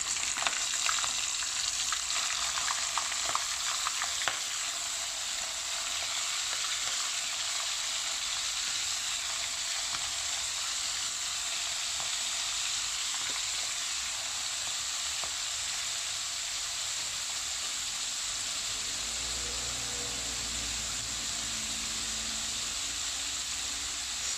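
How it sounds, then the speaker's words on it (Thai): Steady loud sizzling and crackling of shrimp frying in hot oil in a wok, a constant hiss that continues throughout with no talking. "เราก็จะเอากุ้งลงทอดเลยนะครับ"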